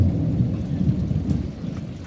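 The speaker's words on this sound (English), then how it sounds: "you just don't get storms like this in England these days" A thunderstorm over Pouvereau rumbles with low, rolling thunder beneath a steady hiss of rain falling on surfaces, close and continuous with no voices.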